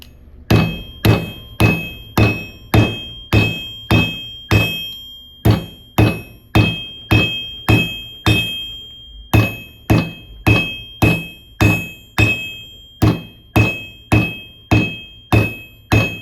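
A hammer repeatedly strikes a twisted copper bracelet to flatten it, producing sharp, ringing metallic taps in a steady rhythm, about two per second, close and loud throughout with brief pauses.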